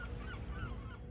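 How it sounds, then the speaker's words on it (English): Goose-like birds honk a few times in the morning outdoors, faint and distant over a constant low background rumble. "I love listening to the bird calls in the morning"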